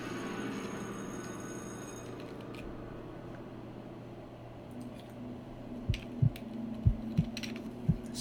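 A soft heartbeat sound effect in a horror story narration, a handful of low, dull thumps pulsing faintly beneath a droning background.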